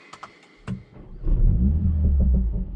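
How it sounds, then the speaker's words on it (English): A Mercedes-AMG CLA 45 S Shooting Brake's turbocharged four-cylinder engine starts after a few faint clicks, catching with a sudden low rumble and settling into a loud, steady idle close by. "when you start that high-pitched 4-cylinder turbocharged engine"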